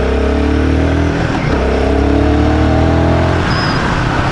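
A Royal Enfield Guerrilla 450 motorcycle, a 40 horsepower bike, accelerates hard with a loud, steady engine roar that rises in pitch, dips briefly midway, then climbs again, close and alone without talk.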